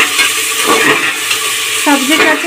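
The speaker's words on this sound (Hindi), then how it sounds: "सभी सब्जी को भून लेते हैं अच्छे से" Drumstick, potatoes, tomatoes and other vegetables sauté in a pan with a loud, close sizzle and intermittent stirring scrapes, and a voice comes in briefly toward the end.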